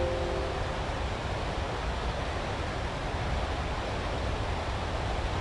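Water from six dam discharge pipes rushes out in a steady, dense, unbroken roar that holds at an even level throughout, with no voices over it.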